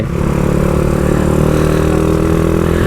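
A motorcycle engine runs steadily close by, a continuous low rumble that holds an even level throughout with no clear revving or pauses.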